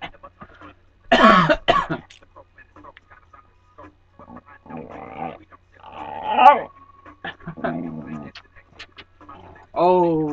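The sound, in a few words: dog vocalizing on command to speak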